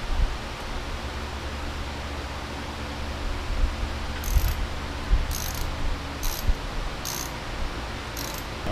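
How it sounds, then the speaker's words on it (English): A ratchet tightens a fitting on a TroyBilt riding lawn mower engine. About five separate, close ratcheting clicks come at roughly one-second intervals over a steady background hiss during the second half. "I'm gonna tighten this here up."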